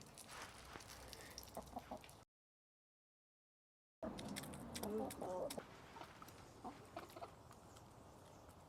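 Backyard chickens being fed dried black soldier fly larvae cluck and murmur close by in short bursts, broken by a brief gap of silence, with faint scratching sounds around them.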